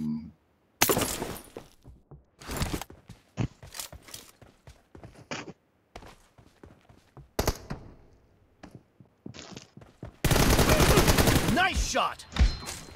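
Gunfire in a mobile shooter game during a one-on-one team deathmatch, with scattered sharp shots and short bursts spread irregularly across the clip, ending in a longer loud stretch of dense firing.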